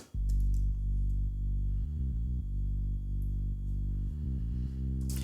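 A boomy main bass synth from an electronic track plays steady, deep sustained notes that shift pitch in short runs. It sounds alone and fairly loud, with no voices.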